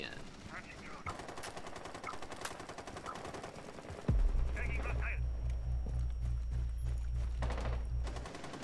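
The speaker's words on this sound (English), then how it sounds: "Someone tried to shoot underneath me." Rapid gunfire in the tactical shooter Rainbow Six Siege, bursts crackling close and loud over game noise, followed by a heavy sustained low rumble from about halfway through.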